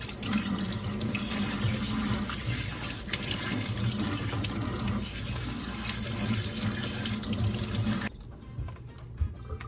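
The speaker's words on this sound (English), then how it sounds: "we're gonna go ahead and wash our pods" Tap water runs hard into a sink while used Nespresso coffee pods are washed, a steady splashing rush that cuts off near the end and leaves a few faint drips and clinks.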